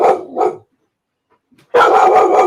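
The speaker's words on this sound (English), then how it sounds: "Hey, sorry, my dog. Oh, he always barks when I'm on stream." Dog barks loudly and close: two quick barks, a short silence, then a longer burst of sustained barking, with no other sounds alongside.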